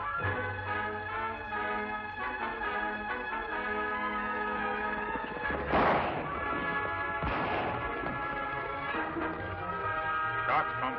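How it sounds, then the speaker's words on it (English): Gunshots go off in a Western setting: two or three sharp, booming cracks land over music, spaced a second or two apart, with a fainter shot near the end. "Shots come from over there."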